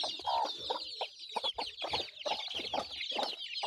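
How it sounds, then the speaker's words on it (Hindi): Chicks and chickens for sale at a poultry seller's stall, clucking and chirping in a continuous busy chatter of short, overlapping calls close by, with no talking. "एबे देखन तो एठी मते किछि चिक्स अछि"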